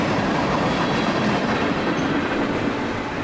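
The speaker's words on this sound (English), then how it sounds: "I-74 is a mixed bag, some freight cars and some piggybacks." A freight train of boxcars and piggyback trailers rolls past in northwest Georgia with a loud, steady rumble and continuous clatter of wheels on rail.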